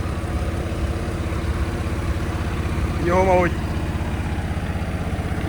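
Stationary diesel engine idling in a farm setting, a steady low chugging rhythm throughout with someone talking over it.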